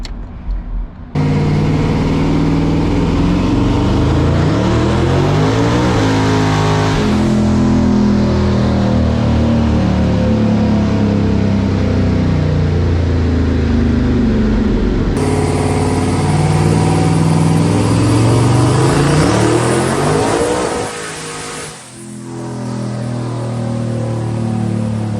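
A 1000HP Ford Ranger street truck roars on a dyno. The loud engine climbs through long revving pulls, with gear shifts breaking up the rising pitch, then drops back toward idle near the end.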